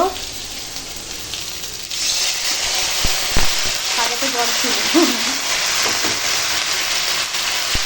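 Bottle gourd greens dropped into a hot pan of sautéed vegetables for a Bengali chorchori, giving a steady broad sizzle and frying hiss throughout, close up, with a few scraping knocks.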